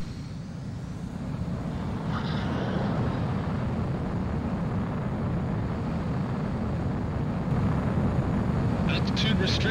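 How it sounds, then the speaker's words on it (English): Fighter jet taking off in the PS2 video game Ace Combat 04: Shattered Skies, a steady loud engine roar that holds for the whole stretch, with radio-style voice chatter over it. "Mobius One, you are cleared for takeoff."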